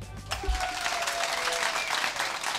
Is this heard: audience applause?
yes